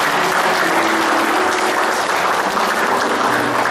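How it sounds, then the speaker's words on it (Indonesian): Congregation applauding at a church wedding right after the couple is declared husband and wife, a steady, dense wash of clapping that stays loud and even throughout. "Mari berikan tepukan sama-sama."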